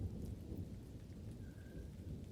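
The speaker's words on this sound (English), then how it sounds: "Tom awoke to the sound of pelting rain outside of his house." Rain pelts down outside a house in a dense, steady hiss, with a low thunder rumble beneath it, heard quietly and without any voices.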